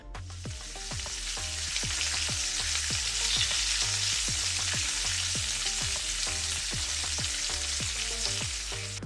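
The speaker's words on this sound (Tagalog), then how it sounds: "Lutuin po natin yung mga meat natin." Samgyeopsal pork belly fries on a tabletop grill, giving a loud, continuous sizzle with a fast run of sharp spattering pops and crackles throughout; no talking.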